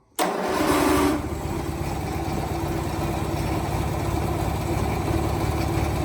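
A Lawn Chief lawn tractor engine cranks and catches abruptly, with a brief louder surge, then settles into a steady, loud, close idle that runs on alone.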